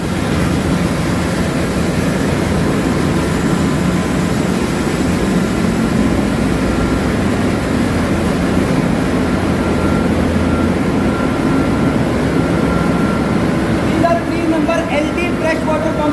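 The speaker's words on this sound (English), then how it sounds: "This is boiler fuel oil pump, again 2 in number." A ship's boiler fuel oil pump running in the engine pump room, a steady loud mechanical drone with low hum and broadband machinery noise, unchanging throughout amid other machinery.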